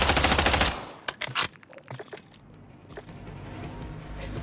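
A Warzone loadout weapon fires in the video game: a rapid, loud burst of automatic fire opens, followed by a few sharp, scattered shots over a low background rumble.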